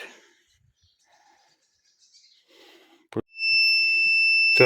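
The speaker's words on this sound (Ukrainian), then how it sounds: "працює в нас зумер на давленні." Near silence with faint rustles and a couple of clicks, then a T-150 tractor's loud, steady high-pitched low-pressure warning buzzer sounds continuously to the end.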